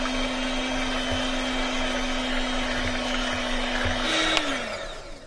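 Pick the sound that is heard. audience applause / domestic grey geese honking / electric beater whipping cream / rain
electric beater whipping cream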